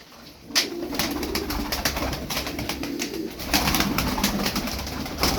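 Tumbler pigeons, a smoky hen among them, coo in a steady low murmur that runs throughout, with soft rustling and occasional sharper bird calls from a flock close by.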